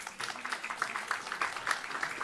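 An audience at a talk on food security and climate extremes claps steadily to welcome Ken Lee, co-founder of Lotus Foods, to the stage, a dense, even patter of many hands throughout.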